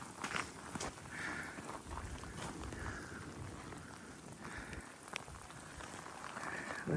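Rain patters steadily on a hillside overlooking a volcanic eruption site in Iceland, a soft continuous hiss with occasional sharper drops and some footstep crunches, fairly faint and close.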